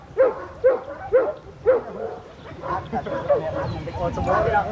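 A dog in bite training lets out four sharp, evenly spaced barks up close, then keeps growling and yipping under a trainer's voices giving instructions.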